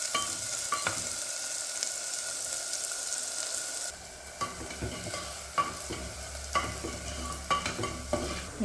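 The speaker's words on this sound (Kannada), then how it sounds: "ಸಣ್ಣದಾಗಿ ಹಚ್ಚಿಟ್ಕೊಂಡಿರೋ ಈರುಳ್ಳಿನ ಇದನ್ನು ನೀಟಾಗಿ ಫ್ರೈ ಮಾಡ್ಕೊಳ್ಳೋಣ" Finely chopped onions fry in a pan for green masala steamed fish curry, a steady close sizzle that drops in level partway through, followed by scraping stirs and soft clatters, with no talking.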